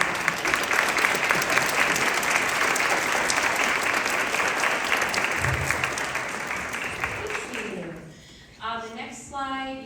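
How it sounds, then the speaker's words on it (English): An event audience gives a sustained round of applause for the sponsors, dense clapping that fills most of the clip before fading as a speaker's voice begins. "give them a round of applause"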